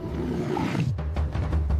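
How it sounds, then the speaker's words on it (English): A lion's deep, rumbling roar swells up loud and close, ending in a series of rhythmic grunting pulses. "He roars at his own ghost."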